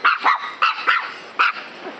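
A dog barks in quick irregular bursts, several sharp yips and barks spaced unevenly over about two seconds, fairly close and moderately loud.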